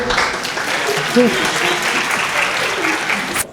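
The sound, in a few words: classroom applause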